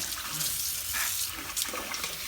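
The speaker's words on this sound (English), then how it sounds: "if it's really dirty like this, you have to turn the water on" Tap water runs steadily from a faucet to rinse a dirty paintbrush, a constant close hiss and splash filling the whole clip with no talk.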